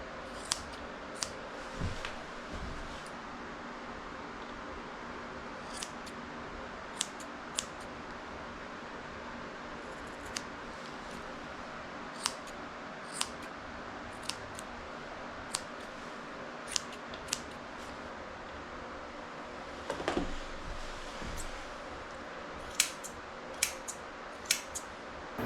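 Repeated crisp snips of straight grooming scissors trimming a Mini Goldendoodle's fur under the chin, close by, spaced irregularly over a steady low background hum, with no talking.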